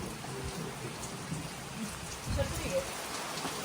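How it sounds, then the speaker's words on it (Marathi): Heavy monsoon rain pours over a village near a flooded temple, a soft continuous patter close by with a few louder splashes, while people talk quietly over it. "पाऊस तर भयंकर आहे दिवसभर"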